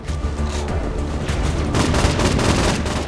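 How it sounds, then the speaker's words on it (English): Hip-fired gun in the video game Saints Row 4, a dense, loud run of rapid shots with booming impacts, continuous across the whole moment and growing slightly heavier toward the end. "I can hip fire too now"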